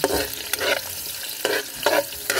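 A spatula stirs onions frying in a pan for a Filipino dish of snails in coconut milk, making close scraping strokes in repeated bursts over a soft steady sizzle.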